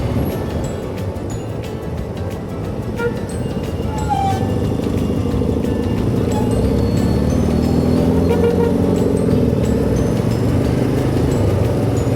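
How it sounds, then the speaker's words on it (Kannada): Dense road traffic rumbles steadily, with engines and a mix of vehicle noise; horn toots are brief and partly buried in the din. "ಜರುಗು ಜರುಗು ಜರುಗು ಅಂತ ಹಾರ್ನ್"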